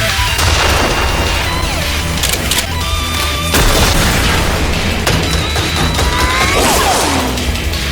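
Close-range gunfire in an anime battle: rapid shots, sharp booms and crashing impacts pile up in a dense, loud barrage that runs throughout.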